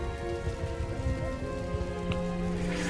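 Steady rain hisses through a Total War: Empire battle on an open field, a continuous wash of drops at moderate level without speech.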